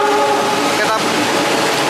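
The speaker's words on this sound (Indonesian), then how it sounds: "ini kereta kita." Local passenger train at Semarang Poncol station in Indonesia, a steady loud rumble of rail noise with a brief tonal note near the middle, mixed with background voices.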